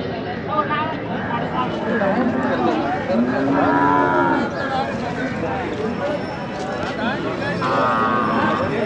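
Cattle moo repeatedly at the Saturday bull market in Chakan, several long lowing calls rising over a busy crowd, with people talking throughout nearby.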